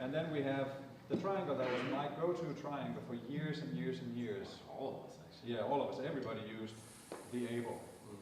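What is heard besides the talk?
No everyday noises stand out.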